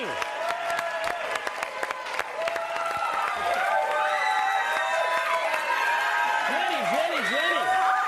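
A studio audience at a televised show applauds and cheers over music as a guest is welcomed, a steady dense wash of clapping with scattered whoops under a bright melodic backing.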